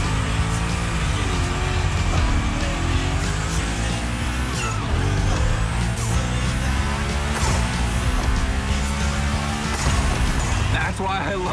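A car slides through a gymkhana run in The Crew Motorfest video game, its engine roaring continuously with squealing tires and rising revs, while someone talks over the top.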